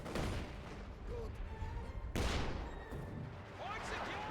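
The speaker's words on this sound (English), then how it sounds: "More artillery fire around the center from the 2 light infantry guns." Artillery and heavy mortar fire from light infantry guns in the strategy game Company of Heroes 2, a dense continuous barrage of booming blasts with a sharp explosion midway, heard under commentator talk.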